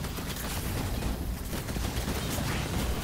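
Dense, continuous gunfire from weapons in Destiny 2 during a boss damage phase in the Grasp of Avarice dungeon, loud rapid shots layered over game noise with no break.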